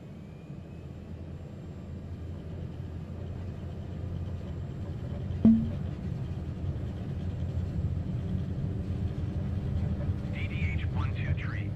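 A BN2 Mk III Trislander light aircraft takes off on a Norwegian bush trip in Microsoft Flight Simulator, its engines a steady droning rumble that slowly builds, with a radio voice and talk heard over it.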